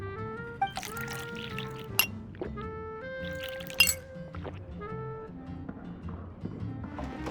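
Glass clinking and juice pouring in the Genshin Impact video game, with bright glassy chimes and several sharp clinks over a light layer of game music and ambience.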